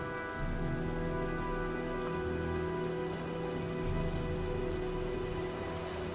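Steady rain and storm noise from the video game Heavy Rain, a dense continuous hiss of rainfall with a low rumbling bed and faint tonal music-like layers, loud and unbroken throughout with no talking.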